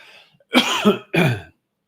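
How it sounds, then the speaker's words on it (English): Two harsh coughs close up, one right after the other, the first a bit longer and rougher, then quiet. "sorry about that, guys. My cough."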